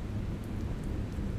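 Steady rainfall outdoors, a dense even hiss with low rumble filling the whole moment, no voices over it.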